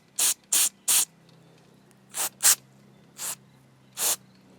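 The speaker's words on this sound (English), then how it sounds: "now we can finish it off with blowing some carb cleaner through the top" Carb cleaner sprays through a lawn mower carburetor in seven short, sharp hissing bursts, some in quick succession and some spaced apart, loud and close over a faint low hum.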